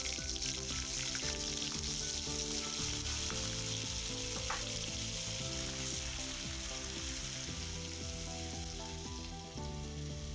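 Butter sizzles and fries steadily in a frying pan while cooking one-pan chicken fried rice, a dense continuous crackle that stays loud and even from start to finish with no talking.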